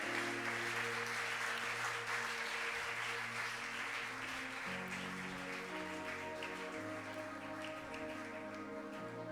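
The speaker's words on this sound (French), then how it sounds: "On acclame le Seigneur." A church congregation at a gospel service applauds to acclaim the Lord, sustained dense clapping from many hands filling the room, steady and even throughout, heard at some distance without speech over it.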